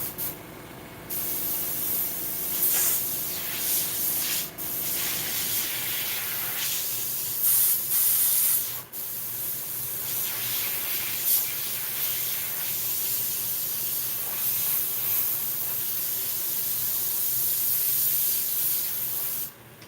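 A dirty airbrush sprays paint in the shop in a loud, close, continuous hiss, broken by a few short pauses and pulses as the trigger eases and presses again, with no voices.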